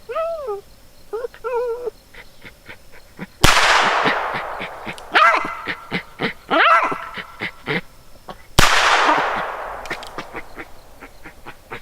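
A small dog being held barks in sharp, repeated yaps and yelps, close and fairly loud, with brief pauses and a couple of bursts of clattering noise between the barks.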